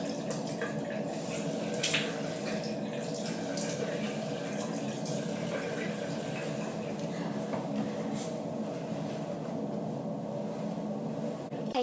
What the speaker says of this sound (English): so we're going to wash my face